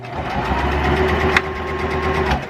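A sewing machine stitches fabric with a backstitch, its motor giving a steady, close mechanical hum that runs for the whole short stretch with one brief click near the middle.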